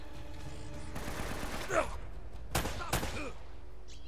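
Gunfire in the video game Uncharted: Drake's Fortune: a few sharp shots and short bursts crack out over game background noise, moderately loud, with a person's voice in between.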